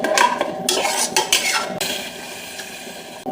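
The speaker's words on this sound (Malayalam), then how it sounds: "ചോറൊന്ന് റോസ്റ്റ് ചെയ്തെടുക്കണം" Raw rice roasting in oil and ghee in a pan is stirred with a metal spoon, giving loud close scraping and clinking strokes over a faint sizzle that settles into a quieter steady hiss.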